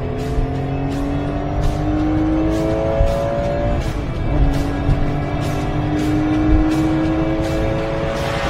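Singer-modified Porsche 911 engine revving hard through downshifts, its pitch climbing in long sweeps, dropping, then climbing again, loud and close, with sharp blips between gears and no voices.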